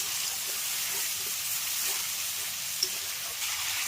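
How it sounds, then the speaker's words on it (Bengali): A spice masala cooks with chopped tomato in a pan, giving off a steady, even sizzle and hiss that runs unbroken throughout, close and moderately loud, with no talking. "এবার টমেটোটা দিয়ে ভালো করে মশলাটাকে কষিয়ে নেব"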